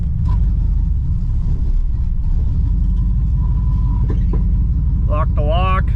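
A 1967 Pontiac Grand Prix convertible rolls along with a loud, steady low engine rumble and road noise throughout, a voice briefly speaking over it near the end.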